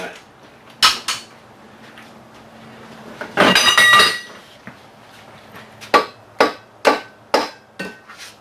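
A hammer taps a key into the rusty, dirty keyway of a tub grinder jackshaft. Sharp metallic strikes come close up: a couple early, a scraping clatter midway, then a steady run of evenly spaced taps.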